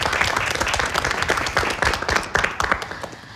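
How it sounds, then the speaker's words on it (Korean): A lecture audience claps in welcome before a financial management talk, a dense burst of close, lively applause with some individual hand claps standing out, and no speech over it. "오늘도 기대되는 명강의 박수로 청해서 듣겠습니다"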